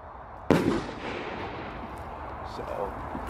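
A Belgian fireworks rocket with a strong lift charge gives a sharp loud bang at the start, followed by a fading crackling, hissing tail against a steady outdoor background.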